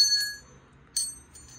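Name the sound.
small bell ringing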